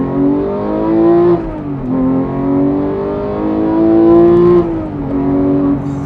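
A manual Porsche 911 GT3 (991.2) engine revs loud and close, climbing in pitch, dropping off briefly at each gear change and climbing again, in a sustained high-revving wail.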